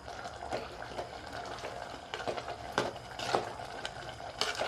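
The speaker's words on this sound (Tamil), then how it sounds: "இதெல்லாம் போட்டதெல்லாம் நல்லா கலந்து விட்டுடுங்க." Chilli, turmeric and coriander powder being stirred in a mud pot, a run of soft scraping and clinking strokes over a faint bubbling, irregular and close, with no voices.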